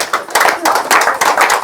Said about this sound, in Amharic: እስቲ አጨብጭቡላቸው።